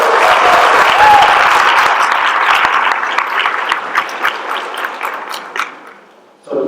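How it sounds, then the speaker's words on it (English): Sustained applause from a conference audience at a lunch session, loud and dense at first, then thinning into scattered individual claps before dying away near the end. "So just by a round of applause, how have you enjoyed today's conference so far?"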